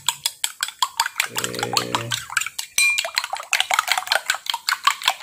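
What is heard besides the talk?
whisking chicken eggs in a bowl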